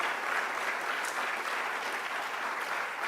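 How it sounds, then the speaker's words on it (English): An audience at an Albinism Awareness Day gathering with Minister Farrakhan gives steady, dense applause. The clapping stays loud and even for the whole stretch, with no voices heard. "can we please clap it up for my sister Kina Muhammad in the front?"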